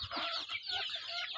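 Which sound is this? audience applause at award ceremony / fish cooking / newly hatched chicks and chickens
newly hatched chicks and chickens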